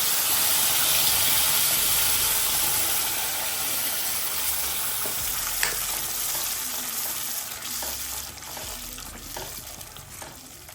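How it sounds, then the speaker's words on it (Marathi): Veg Maratha gravy frying in oil in a pan, a loud continuous sizzle and hiss with occasional stirring scrapes, steady throughout and gradually easing toward the end. "ही ग्रेव्ही तयार आहे मैत्रिणींनो, याला आपण थोडं फ्राय करून घेऊया. तेल ॲड करूया."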